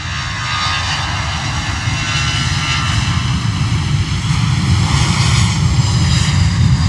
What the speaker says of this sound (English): Another lovely rotation there from the EasyJet A320.